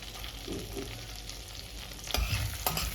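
Cumin seeds and ginger sizzle and fry in a pan for an egg malai masala gravy, with soft stirring scrapes and a couple of sharper clinks near the end, continuous and close.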